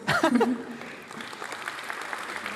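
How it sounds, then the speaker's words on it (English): Audience applause at a live real-time graphics demo session, a dense burst of clapping that starts with a voice over it, then settles into steady, moderately loud clapping from a crowd. "applause."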